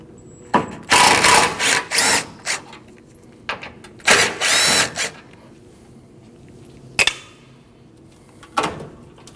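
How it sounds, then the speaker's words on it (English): Two T30 bolts are backed out of a transmission cooler on a 2012-2021 Nissan NV2500 5.6L V8 using a power tool, heard as two close, loud bursts of ratcheting whir followed by a couple of short clicks and taps. "Now we need to remove our 2 T30 bolts for our transmission cooler."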